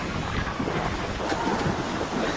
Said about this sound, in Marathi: इतकं तुफान वारं चाललंय ना.